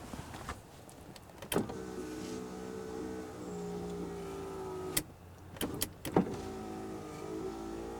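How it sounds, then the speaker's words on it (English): Power window motor in the door of a 1980 Mercedes 300D, whining steadily as the glass runs up and down in repeated passes, with sharp clunks at each end of travel; close and clear, no talk. "we'll run the motor up and down a couple more times"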